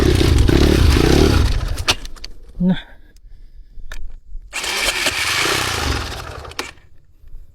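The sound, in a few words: motorcycle engine starting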